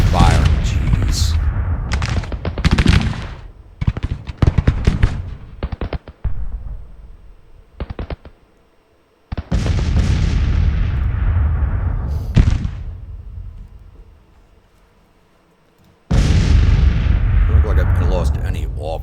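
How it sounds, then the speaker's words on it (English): Brigades armed with Sharps rifles fire in a Civil War strategy game battle, heard as heavy ragged volleys and rolling bursts of musketry separated by brief lulls, loud and close. "There's another brigade with sharps rifles that are firing."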